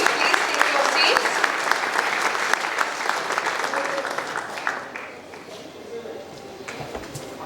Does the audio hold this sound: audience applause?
yes